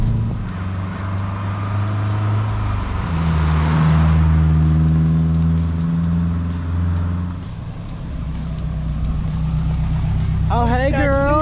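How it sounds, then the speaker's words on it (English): A rebuilt car engine revs loudly and steadily, its deep rumble swelling and holding for several seconds before easing, with people talking over it and a brief higher whine near the end. "Now I know what a happy car sounds like."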